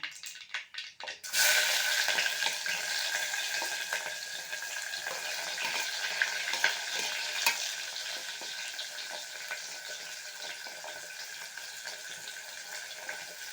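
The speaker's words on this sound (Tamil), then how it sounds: "இப்போது கடுகு பொரிஞ்சிடுத்து. இந்த பூண்டும் வெங்காயமும் இப்போ சேர்க்கலாம்." Garlic and onions hit hot oil with spluttered mustard seeds, bursting into a loud, steady frying sizzle with crackling pops that carries on alone after a brief initial clatter.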